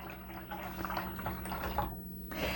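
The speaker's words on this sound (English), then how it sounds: "if you're gonna pour for a while, you pull it up and you can pour it like this" A beverage pours from the spout of a double mason jar drink dispenser in a soft, steady trickling stream, faint and close, with a low hum beneath.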